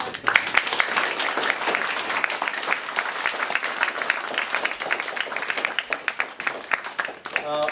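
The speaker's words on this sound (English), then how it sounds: "So just to give a round of applause to our guests." An audience at a public discussion applauds its guests with lively, close clapping that thins slightly toward the end, while a few voices murmur beneath it.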